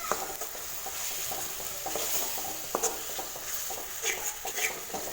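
Onions sauté in a pan with ginger, garlic and green chili paste for egg masala: a soft continuous sizzle with scraping stirs and light utensil taps.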